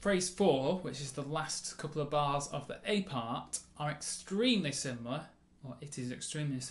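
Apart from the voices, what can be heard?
No everyday noise stands out behind the speech.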